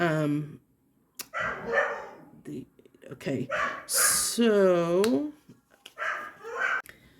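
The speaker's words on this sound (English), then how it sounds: "Hopefully the dog will not bark." A dog in a house barks and yips, with a drawn-out whining howl partway through, mixed with a person talking over it.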